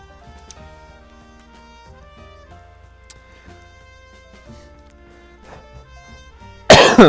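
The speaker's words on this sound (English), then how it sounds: "I'm so sorry, you guys, that I keep coughing." A single loud, harsh cough bursts out at the very end, after a long stretch of quiet with soft tonal background sound.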